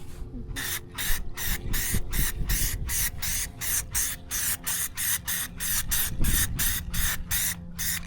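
A spray can lays a light coat of paint on a motor part in rapid, evenly spaced bursts of hiss, close and fairly quiet, with no talking.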